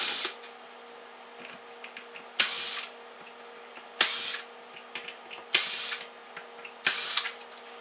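A power drill backs wood screws out of a Boss Katana Artist MK1 guitar amplifier, five short, loud whirring bursts spaced a second or so apart, each trailing off into a quiet room hum.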